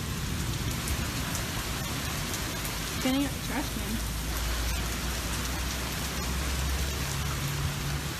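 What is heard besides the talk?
rain and thunder outside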